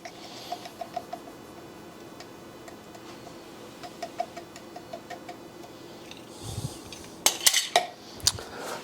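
A spoon clicks and ticks lightly against a bowl while white pepper, onion powder and garlic powder are mixed for chicken fried potatoes, small quiet taps ending in a few louder clatters.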